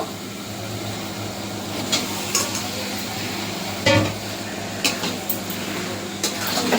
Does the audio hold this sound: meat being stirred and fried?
yes